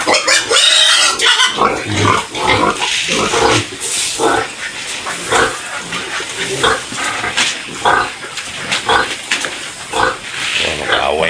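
Pigs squeal loudly and repeatedly at feeding time on a small farm, shrill overlapping cries in uneven bursts close by, with a person talking in between.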